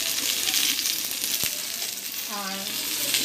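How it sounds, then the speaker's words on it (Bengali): Potato and cauliflower fry in hot oil in a home kitchen, a steady soft sizzle with a brief sharp tap of a utensil and a faint short voice-like tone partway through. "এই যে আলু কপিটা ভাজছি"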